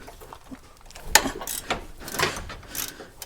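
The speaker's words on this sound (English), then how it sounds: "I like using a ratchet with a longer handle on it, because sometimes these can break loose kind of hard." Ratchet clicking as it loosens the 17mm bolts on the front brake caliper bracket of a Hyundai Santa Fe, several brief mechanical clicks and clunks with one sharp crack near the start, close and moderately quiet.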